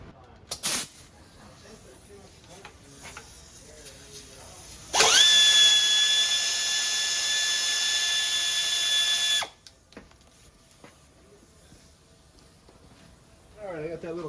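A power tool whirs steadily for about four seconds with a high whine, spinning a 10 mm nut off the transmission pan of a 2017-2019 Ford Escape with auto start, amid quiet workshop clatter and brief talk.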